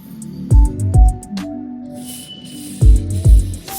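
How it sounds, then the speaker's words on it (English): Short spray bursts of ceramic chain lube aimed at the O-rings of a motorcycle chain: two quick pairs of close, loud hissing puffs, each under a second, with a quiet pause between the pairs. "Always focus on spraying onto the O-ring itself and not to the entire chain."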